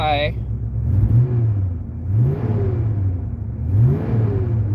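A car engine revs up and settles in repeated swells, close and steady, with a faint ticking texture under the rumble.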